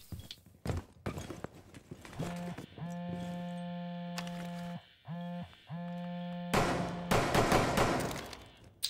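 In a video game, gunfire erupts in rapid sharp bursts, mixed with clattering impacts and a sustained tonal drone in the middle, with loud clusters of shots returning near the end.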